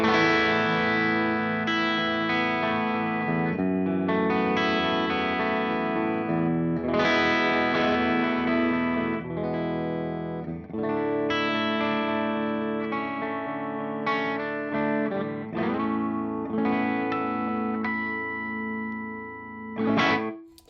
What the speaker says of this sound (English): We're on the bridge pickup. We're playing an A-sus2 chord,